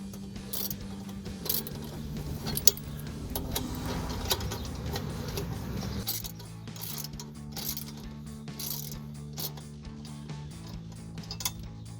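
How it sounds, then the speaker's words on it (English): A ratchet with a 5/8 socket tightening a C&L Sport axle-back exhaust with a polished tip on a 2005-2010 Mustang V6, giving rapid metallic clicking in bursts with short pauses and one sharper knock. "I'm going to take my ratchet again in the 5/8 socket, and I'm going to start to tighten this down"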